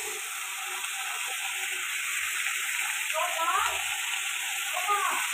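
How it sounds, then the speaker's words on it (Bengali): Chopped vegetables fry and get stirred in a pan with tomato, a steady sizzle with scraping and clatter building toward the end, close and fairly loud. "সবজিটা দিয়ে দিলাম, একটু ভালো করে নাড়াচাড়া করে নেব"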